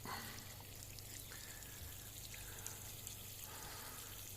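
Water poured to soak Chilean bamboo plants: a faint, steady trickle and splash running continuously, heard alone outdoors.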